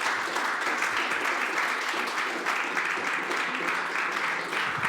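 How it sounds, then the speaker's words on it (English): Audience at a compiler talk giving a round of applause, an even, moderately loud patter of clapping that carries on steadily for several seconds. "Let's give a round of applause,"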